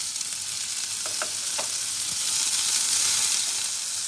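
Shrimp dusted with paprika browning in a frying pan, giving a steady close hiss of sizzling oil with a few light clicks of a utensil early on, swelling slightly louder near the end.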